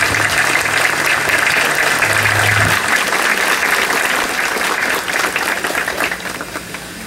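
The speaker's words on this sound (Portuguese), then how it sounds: "Uma salva de palmas." A church congregation at a Mass breaks into dense, sustained applause, loud and close, which slowly thins out over several seconds with a low hum underneath.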